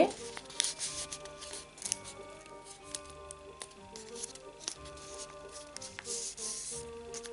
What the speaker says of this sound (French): Donc là, on va plier en deux.